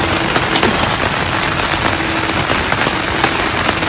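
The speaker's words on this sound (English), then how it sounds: "It's raining." Rain falls steadily during a motorcycle trip, a loud, close, continuous patter with scattered sharper drops hitting a surface and no voices.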